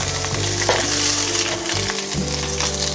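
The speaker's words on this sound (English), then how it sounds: "We're gonna stir fry the veggies in the same skillet." Vegetables stir-fry in a skillet still slick with leftover ground beef fat, giving a loud, continuous close-up sizzle with a low background hum, and no talking.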